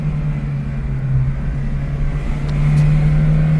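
An Acura RSX fitted with paddle shifters hums with a steady low engine drone from inside the cabin, its pitch holding then rising slightly as it shifts into third gear near the end; no one speaks.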